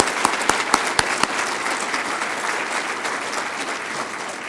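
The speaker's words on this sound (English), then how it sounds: "I'd like to just ask you for one more round of applause, please, for Dr. Henry, Dr. Bryant, Mr. Wasden, and to Gary Whitby." A breakfast forum audience gives a round of applause for the speakers, starting with a few sharp claps that swell into sustained, fairly loud clapping from the room.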